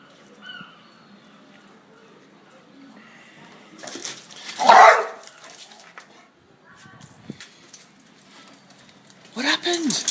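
A small dog gives short yips and whimpery barks in separate bursts, one loud cry near the middle and another at the end, with a quiet background and people talking softly in between.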